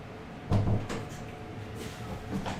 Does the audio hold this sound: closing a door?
yes